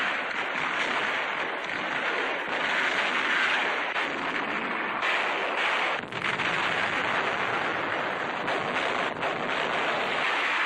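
Naval and land artillery fire supporting Marines fighting on shore, heard as a continuous loud roar of distant guns and blasts mixed with heavy wind and surf-like noise, with no talking.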